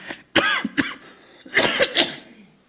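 Sharp, close coughs break a preacher's sermon at a Korean church, a burst of several hacks followed by a couple more a moment later, with little talk between them.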